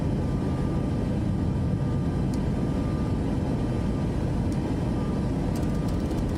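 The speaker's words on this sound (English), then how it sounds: "Landing gear up." Simulated airliner climbing out after takeoff with the landing gear retracting, a steady broadband engine roar filling the whole stretch at even loudness, with no talking.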